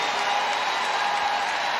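Applause from a WNBA arena crowd as the New York Liberty finish off the Indiana Fever: a steady, dense wash of clapping and crowd noise with no pauses, sustained through the whole stretch.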